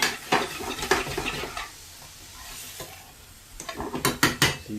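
Onions sweating in a pan for chicken tikka masala, stirred with a utensil: scraping knocks and clinks against the pan come in bursts at the start and end, over a soft sizzle, close up and with no talking.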